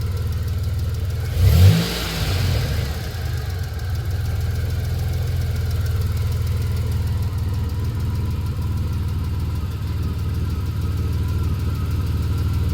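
A 1991 Dodge Grand Caravan engine running at a steady idle, a low continuous hum after a brief louder burst near the start, close and without talk.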